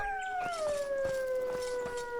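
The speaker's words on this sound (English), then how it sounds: "we've got a red wolf coming in now" A red wolf howls in the survival game Aska, one long sustained tone sliding gently downward over about two seconds, loud and close with faint clicks in the background.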